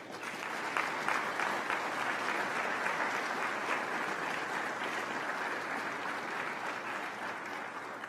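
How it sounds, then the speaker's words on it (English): Steady, sustained applause from a ceremony audience honoring public service award recipients, a dense even clapping that holds at a constant level for the whole stretch with no voices standing out. "Please give them a final round of applause"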